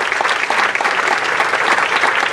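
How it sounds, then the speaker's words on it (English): A breakfast audience at a Pearl S. Buck International charity event bursts into loud, sustained applause, dense clapping filling the room steadily from start to finish with no voices on top. "Please, a round of applause."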